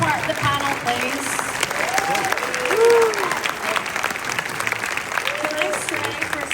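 Sustained applause from a convention panel audience fills the clip, with scattered voices and a brief whistle rising over the steady clapping.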